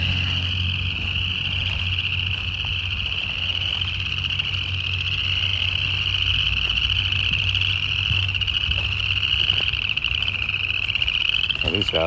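A dense chorus of frogs croaks steadily beside a creek on cleared, forestry-mulched land, a continuous high trilling band sustained throughout with low croaks beneath, loud and close, with no talking.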